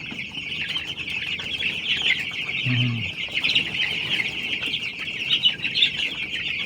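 Twelve-day-old chicks gathering to be fed, a continuous dense chorus of high peeping and chirping close by, with one brief lower cluck partway through and no speech.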